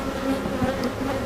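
Honeybees buzz steadily and close by as hive frames are inspected, a dense, continuous drone with a few individual bees passing near.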